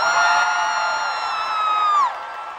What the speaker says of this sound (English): enormous round of applause for the incredible artist